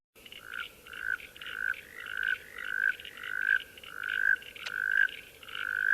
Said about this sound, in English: This is another frog. This is the northern heath frog.